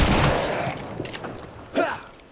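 A shotgun blast in the zombie survival game State of Decay 2 booms loudly at the start and trails off, followed by a second sharp shot near the end, with faint talk in between.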